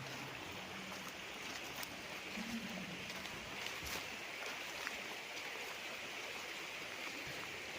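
Flowing stream on a farm lot in Liliw, Laguna, a faint, steady rushing and trickling of water with no talk over it.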